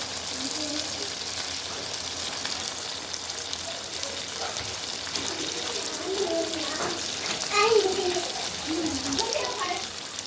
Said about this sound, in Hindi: तकरीबन मैंने आधा किलो इसमें पानी डाल दिया।